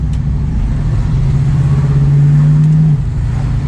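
A 1973 AMC Javelin engine idles steadily up close, a loud low droning hum that holds level for a few seconds before easing slightly.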